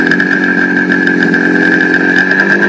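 A GT250 motorcycle engine drones loudly and steadily up close as the bike pulls away slowly, with a constant buzzing pitch and no voices over it.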